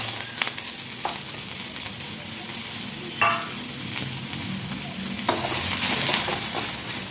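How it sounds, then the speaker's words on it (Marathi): Onion and tomato roasting together in a pan for egg curry masala, a steady soft sizzle with occasional stirring scrapes, close and alone without talk. "आता आपण कांदा आणि टोमॅटो दोन्ही एकत्र भाजून घेऊया"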